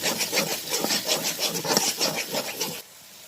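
A spoon scrapes and stirs a paste of green chili, garlic, onion and mustard powder in a pan, a quick rhythmic series of rough scraping strokes that stops abruptly near the end.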